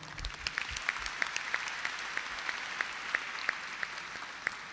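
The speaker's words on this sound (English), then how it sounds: "And a big applause to the daughter of Dr." An audience at a university presidential lecture applauds, a faint, distant patter of clapping with a few sharper individual claps standing out.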